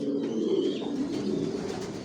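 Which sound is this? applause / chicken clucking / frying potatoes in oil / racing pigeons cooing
racing pigeons cooing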